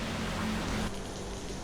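Steady rain pours in East Bali during a scooter ride, a dense, even hiss of falling drops with a low rumbling undertone, continuous and close throughout.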